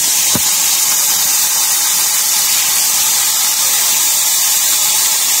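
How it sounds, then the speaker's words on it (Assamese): Fish pieces frying in hot mustard oil in a wok give a steady, dense sizzle and hiss that runs evenly throughout, close and loud, with no talking. "তেল গৰম হ'ল, এতিয়া মই মাছখিনি অলপ অলপকৈ ভাজি ল'ম।"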